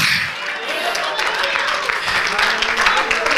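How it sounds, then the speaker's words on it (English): A church congregation at a revival service claps its hands in a steady, dense burst of applause, loud and close, with voices mixed in throughout. "Can you clap your hands?"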